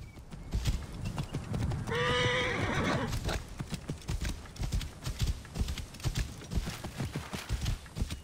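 Horse in the Assassin's Creed Origins video game, with steady clip-clop hoofbeats running throughout and a loud whinny rising in the middle, all fairly close.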